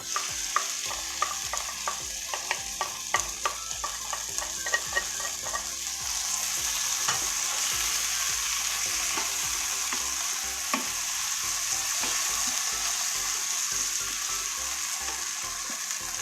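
Beef and ginger sizzle in a hot pan while a utensil scrapes and clatters in quick irregular strokes, a steady frying hiss running underneath.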